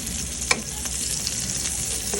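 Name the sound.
sautéing garlic in hot oil for kangkong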